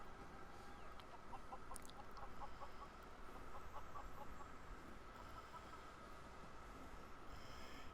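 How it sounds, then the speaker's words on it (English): Hens cluck softly and repeatedly in the distance, over a constant ambient hum of a farm setting in Fallout 4. "I can hear them clucking."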